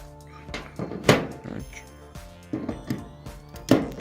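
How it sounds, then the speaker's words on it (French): A Bosch 12V drill-driver battery clicks and thunks onto its charger in a few close, sharp knocks and plastic clatters, without talk over it. "Donc là on a le chargeur, donc on met les batteries."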